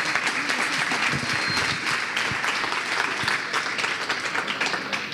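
Festival audience applauding the professor Francesco Sabatini before his lecture, a sustained full round of clapping from a large crowd that stays steady and then eases slightly toward the end.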